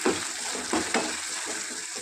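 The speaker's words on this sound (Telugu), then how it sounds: "ఇప్పుడు మనము కాల్చిన వంకాయ గుజ్జుని ఈ తాలింపులో వేసుకోవాలి" Roasted brinjal pulp hitting a pan of hot tempering and being stirred, a loud steady sizzle with bursts of scraping and stirring throughout, no voices.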